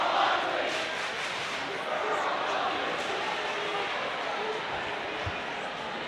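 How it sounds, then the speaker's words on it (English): High school basketball crowd in the Rock Canyon gym cheering a muddled, undecipherable chant, a sustained wash of many voices holding steady throughout at moderate distance. "Undecipherable cheer there"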